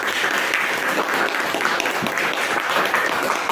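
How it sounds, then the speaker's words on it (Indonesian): A class of students applauds a student group, giving steady, even clapping at a constant level for a few seconds. "tepuk tangan untuk kelompok kan?"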